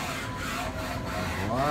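A Doosan Puma 2000Y CNC lathe spindle turns at 4,500 RPM, giving a steady, close machine whir with faint tonal lines that holds evenly throughout.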